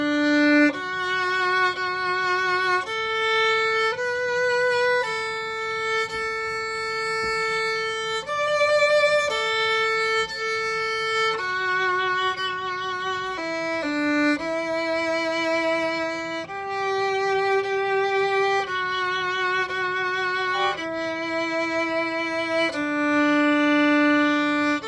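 A solo violin plays the hymn-like melody Evening Prayer from its opening, moving through slow, sustained, legato notes in a steady rhythm, heard close and fairly loud with no talking over it.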